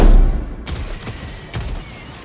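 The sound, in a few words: autocannon gunfire in video game Helldivers 2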